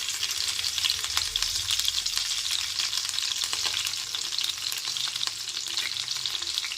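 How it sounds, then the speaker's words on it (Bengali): Chopped green chilies frying in hot oil in a pan, a steady bright sizzle with light crackles and occasional stirring, close and continuous with no talking. "এবার একে একে আমি কাঁচা লঙ্কা কুচিটা দিয়ে দেবো।"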